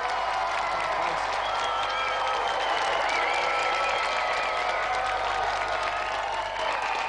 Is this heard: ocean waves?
no